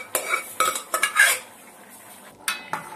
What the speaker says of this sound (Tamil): பட்டாணி எல்லாத்தையும் இப்போ கடாயில் சேர்த்துடலாம்.